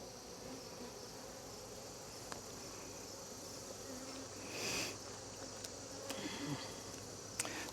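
Honeybees hum around an open hive during an inspection, a faint, steady insect drone with a bee briefly buzzing closer partway through, plus a few small clicks.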